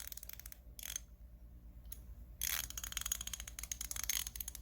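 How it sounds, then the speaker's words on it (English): A Carlyle 90-tooth ratchet wrench clicks in rapid, fine bursts as it is turned back and forth, close and crisp, with brief pauses between runs. "These are 90-tooth ratchets."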